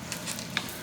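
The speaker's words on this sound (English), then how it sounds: "And I'm just stirring it in, you guys." Food being stirred in a pan while cooking for a Fourth of July meal, a few quick scraping strokes heard up close over a faint sizzle, with no talking.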